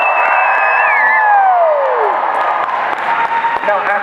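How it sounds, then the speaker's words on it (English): A packed convention audience at a Stranger Things panel cheers and applauds in a loud, continuous roar, with shrill whistles sliding across the noise and no single voice standing out. "Give it a huge cheer."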